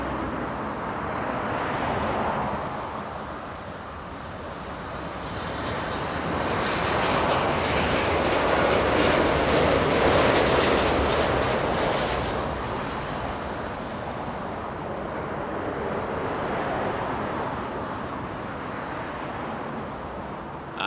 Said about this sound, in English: we should get the arrival and wait for that A380 to get a little closer